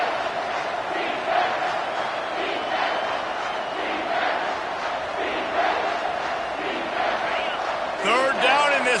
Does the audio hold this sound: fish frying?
no